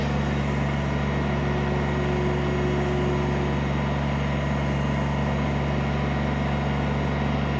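A 2019 Kubota BX23S 23 hp diesel hydrostatic sub-compact tractor loader backhoe engine running with a loud, steady, droning hum close by, holding an even level without clear rises in pitch.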